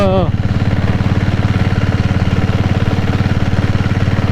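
A diesel Royal Enfield Bullet motorcycle in Kerala runs close by with a loud, steady, rapid thumping beat and a low mechanical drone throughout.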